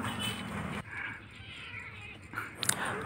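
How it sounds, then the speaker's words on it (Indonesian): A kitten meows several times, short bright calls that start close and loud, pause, then return with a few sharper cries near the end, heard alone without talk. "kucing yang ceria, kucing yang penuh dengan kegembiraan"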